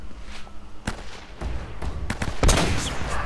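Sniper rifle fire in Uncharted: Drake's Fortune, with several sharp, separate shots and thuds spaced irregularly amid a battle, the loudest blast coming late.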